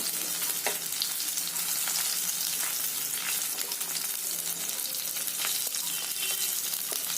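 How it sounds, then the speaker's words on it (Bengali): Aamudi fish frying in hot oil for a second time, a dense, steady crackling sizzle close up with occasional sharper pops, continuous throughout with no talking. "এটা দ্বিতীয়বার ভাজতে হয়।"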